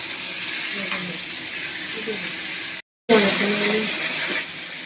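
Fish frying in a hot kadai of oil for a Bengali fish-and-potato curry, a steady hissing sizzle with scattered crackles that cuts out briefly and then returns louder.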